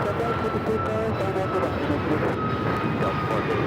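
An American Airlines Boeing 737 MAX 8 jet airliner takes off from Los Angeles airport, its engines a steady, loud broadband roar held throughout, with radio-style talk running over it.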